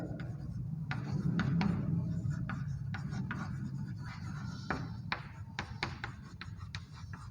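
Pen strokes scratch across a writing surface in short, scattered bursts while someone writes out a maths term, over a low steady room hum.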